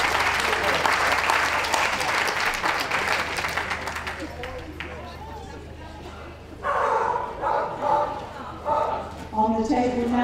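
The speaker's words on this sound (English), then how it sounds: "So, can we give a round of applause?" Audience applauding at a championship dog show, Best in Show ring: a loud, dense round of clapping for several seconds that fades out, followed by someone speaking over a public address system.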